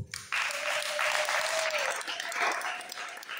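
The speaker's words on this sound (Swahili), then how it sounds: "Tumpongeze kwa makofi." A church congregation bursts into sustained applause during a service, the clapping dense and steady for about three seconds, with faint voices mixed in.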